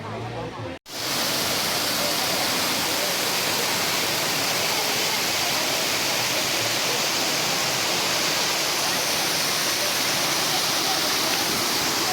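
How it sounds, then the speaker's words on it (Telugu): The Ubbala Madugu waterfall roars in a steady, dense rush of falling water, loud and continuous from just after the start to the end. "ఇదండి ఇవాళ జర్నీ వాటర్ ఫాల్స్"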